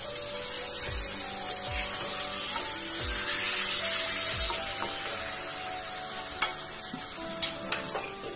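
Water is poured into a pan holding fried potatoes and Aar fish curry, and a steady sizzle rises from it. Soft spoon or stirring taps come at intervals close by.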